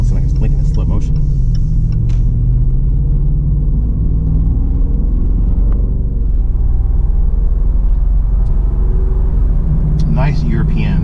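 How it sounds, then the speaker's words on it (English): Supercharged V8 of a 2019 Range Rover Sport rumbling deeply as the SUV pulls away, a loud, steady low throaty drone heard from inside the cabin while a person talks over it. "Nice European sound from this V8. It just throaty and it rumbles as you pull away."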